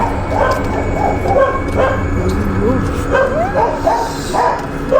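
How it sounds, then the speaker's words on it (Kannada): Dogs bark and yip repeatedly over a loud, continuous background, with whimpering cries mixed in; sounds fairly close and busy. "ನೋಡಿ ಗೈಸ್, ಹೆಂಗ್ ನಾಯಿ ಬೊಗಳ್ತಾ ಇದೆ, ನನ್ ಭಯ ಆಗ್ತದೆ."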